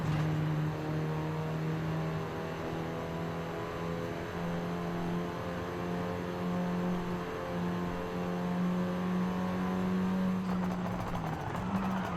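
A 2009 Mini John Cooper Works, master-tuned for A class in Forza Horizon 5, drives with a steady, smooth engine drone holding a near-constant pitch throughout, shifting slightly near the end, loud and alone.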